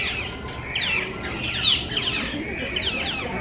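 Birds squawk and call repeatedly inside a zoo aviary, loud harsh cries overlapping close by, with faint background voices.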